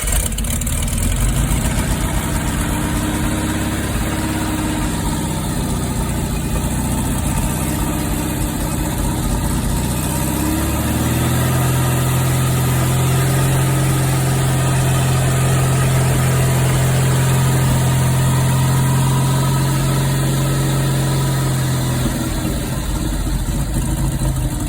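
A repaired car engine, with its coil and ignition system only provisionally fitted, runs steadily at idle up close, with a strong low hum and a clear steady tone in its middle section.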